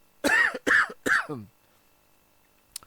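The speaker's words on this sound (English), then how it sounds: "Sorry about that cough." Three loud, close coughs from one person in quick succession, each a harsh burst fading into a hoarse tail, followed by quiet and a small click at the end.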